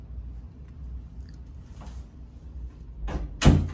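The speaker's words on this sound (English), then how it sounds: "Just shutting the door." A bathroom door is pushed shut, with a faint rustle and then a firm close and thud at the end, near and moderately loud over a low background hum.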